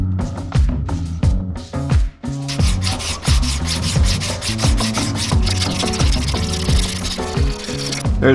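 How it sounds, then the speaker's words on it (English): Sandpaper held by hand rubs over soft Tupelo wood as a catfish swimbait is shaped, a fast run of rough rasping strokes, close and loud, with no voices. "We're gonna do all this with a piece of sandpaper in my hand."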